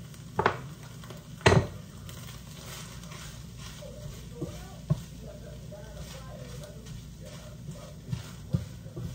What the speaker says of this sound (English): Can you hear my skillet cooking?